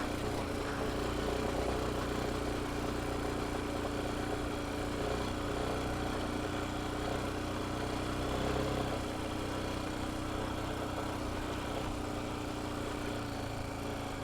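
Royal Enfield Himalayan 411 motorcycle engine revving under throttle while riding on beach sand, a steady, close, loud drone that holds without a break for the whole stretch, with no voices.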